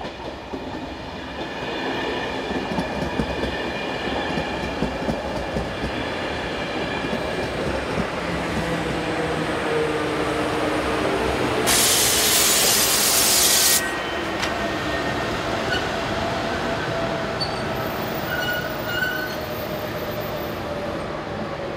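A Czech Class 162 electric locomotive hauls a local passenger train along the Elbe valley near Usti nad Labem, a steady loud rumble of wheels on rail with rhythmic clatter and faint squeals as it passes close by.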